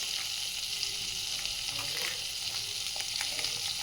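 Cumin seeds sizzle steadily in hot ghee, a close, continuous crackling fry with small bursts of popping and no voices.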